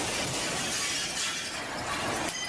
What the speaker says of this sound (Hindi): एक भारी सी चीज आकर सीधा खिड़की के शीशे से टकरा गई